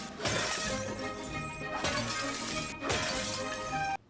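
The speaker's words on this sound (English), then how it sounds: "It is impossible to explain how much I enjoy smashing glass in this game." Glass shatters in the video game The Last of Us Part 2, three loud, bright smashes in quick succession, each followed by tinkling shards, then a sudden cut to near silence.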